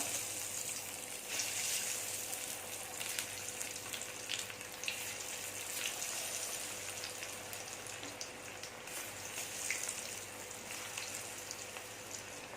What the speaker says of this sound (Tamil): எண்ணெய் சூடு பண்ணியிருக்கேன் பொரிக்கிறதுக்கு